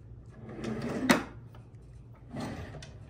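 A wooden drawer slides open with a rubbing scrape and a sharp knock, then slides shut again a moment later, close by.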